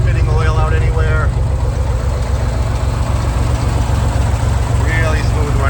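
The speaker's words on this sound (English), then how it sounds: "150 horsepower turbocharged. Flat pancake 6-cylinder engine. Sounds great." Turbocharged flat-six in a 1964 Chevy Corvair Spyder runs at a steady, loud, rumbling idle close by, with someone talking over the engine at times.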